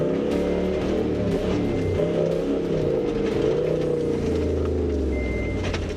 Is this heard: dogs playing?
no